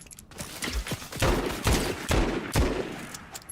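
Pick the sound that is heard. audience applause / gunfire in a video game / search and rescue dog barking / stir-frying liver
gunfire in a video game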